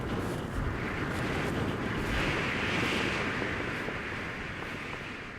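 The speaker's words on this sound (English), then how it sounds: "Gusts of wind buffet their bodies." Loud, steady roar of strong wind gusts on a high Alpine mountain near Mont Blanc, buffeting the microphone, swelling into a fuller gust midway and easing slightly toward the end.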